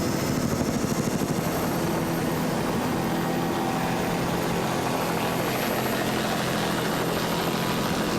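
Racing powerboat engines during an offshore race at Biloxi, Mississippi: a steady, loud, unbroken roar that drones on throughout and holds its level without any break.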